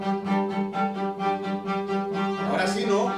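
A viola plays a well-known melody in bowed, sustained notes with a gentle pulsing rhythm, moderately soft, rising toward a brighter flourish at the end.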